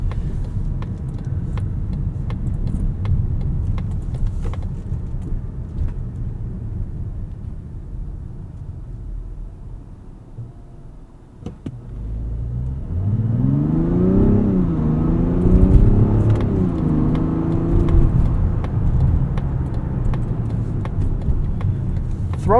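A 2025 Mazda CX-70 3.3 Turbo in sport mode cruises with steady road and tyre rumble, then the engine revs up audibly, rising and falling through gear changes under throttle.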